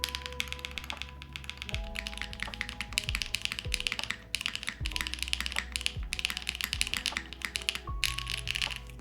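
Mechanical keyboard keys on a Vanguard65 keyboard clack in quick, uneven bursts of typing, close and crisp, with occasional deeper thocks and a solid spacebar.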